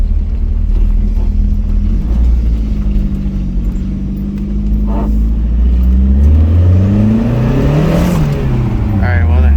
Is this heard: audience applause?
no